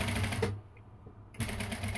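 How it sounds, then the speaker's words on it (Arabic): Sewing machine stitching a seam on an abaya, a steady close mechanical whir that stops briefly mid-clip and then starts again, with no talk. "كنتما غادا نخيط حتى كنوصل زيرو يعني كنخرج هنا في القنت"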